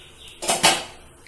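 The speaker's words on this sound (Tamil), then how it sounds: "இது ஒரு இட்லி பானை மூடியை வச்சு மூடிடணும். இப்போ வெந்திருக்கான்னு பார்க்குறோம்." An idli pot lid is lifted off a pan where a methi dosa is cooking, giving two quick metallic clanks and a scrape close by, then a short fading ring.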